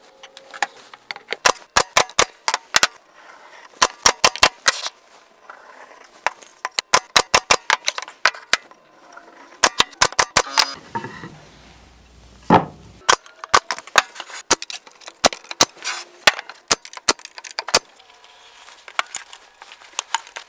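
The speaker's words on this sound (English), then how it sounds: "Next thing is we're going to staple all these pieces together" Staple gun firing into wooden coffee table pieces during a DIY build, sharp clacking shots in quick bursts and scattered singles, close and loud, with quiet handling gaps between.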